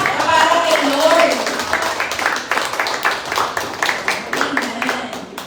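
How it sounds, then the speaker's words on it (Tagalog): Church congregation clapping for the Lord during a service: rhythmic clapping that grows more even in the second half, mixed with a preacher speaking and voices over it. "Sila pa po malakas na palakpak para kay Lord."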